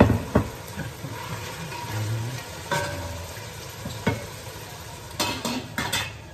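Spaghetti sauce stirred in a frying pan sizzles steadily at close range, with a utensil scraping and clinking against the pan at intervals and no talking.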